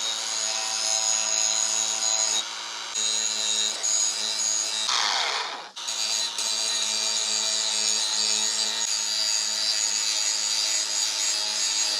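A full grinding wheel sharpens the steel edge of a zero turn mower blade, a steady, bright, high-pitched grinding hiss that runs nearly unbroken, with one short pause and a brief rough scrape midway.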